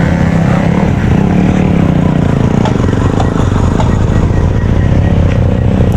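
Motorcycles run stunt practice on a Hyderabad race track, their engines droning and revving steadily at mid distance, with a loud roar that stays constant throughout.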